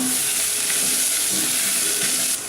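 Ginger and garlic frying in a pan with onions for a Simlai jackfruit curry, a loud, steady close-up sizzle with a few faint stirring scrapes and no talking.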